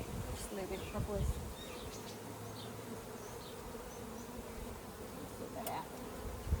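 Honeybees hum steadily around an open hive, a dense continuous buzz that stays close and even throughout, with a few louder passes of individual bees flying near.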